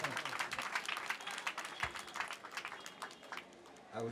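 Crowd clapping for an elder engineer at a cooperative society's year-end anniversary gathering, a sustained patter of hands that thins toward the end before a brief rise, with some voices underneath.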